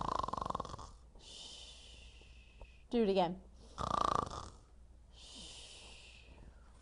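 A child imitates snoring with the voice, making two rasping snore-like bursts in quick succession, loud and close, with adult speech before and after.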